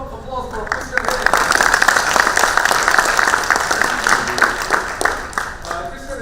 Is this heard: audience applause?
yes